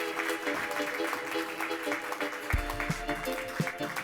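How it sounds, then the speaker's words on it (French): Applause from an award ceremony audience at a Prix Spécial du Jury event, a continuous clapping wash with a low rumbling thump partway through and faint voices mixed in. "votre président, Loïc Guillemin, sous vos applaudissements renouvelés"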